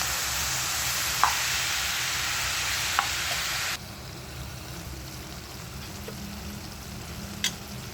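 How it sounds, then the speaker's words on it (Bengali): Cabbage curry with coriander powder and chilli sautéing in a pan, a steady close sizzle that drops quieter partway through, with a few sharp clicks of stirring and no talking. "ধনে গুঁড়ো 1 চামচ, লঙ্কা যে যেমন পরিমাণ মতো ঝাল খায় সেরকম দিয়ে ভালো করে এটাকে কষতে হবে।"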